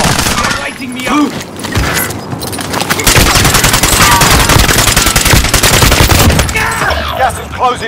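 Dense bursts of automatic gunfire from a Warzone battle royale match on Rebirth Island, rattling almost continuously for several seconds with booming shots and a voice briefly talking over the start.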